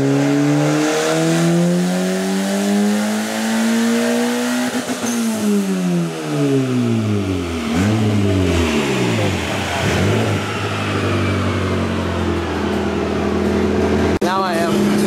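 A turbo Honda Integra on a dyno revs hard in repeated swelling climbs and drops, a loud, close engine wail with tire-roller whine and a few voices underneath.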